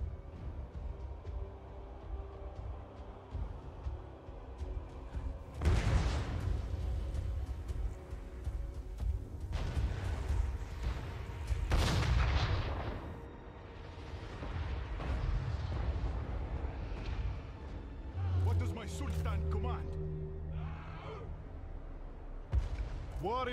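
Several loud booming cannon blasts at irregular intervals over a background of game music and effects, with some horn-like tones near the end, in Total War: Warhammer 3.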